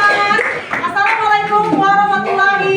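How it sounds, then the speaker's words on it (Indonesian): Participants at a classroom training session clap together in a short, close burst, mixed with loud voices talking and calling out over it. "Tepuk tangan terima kasih."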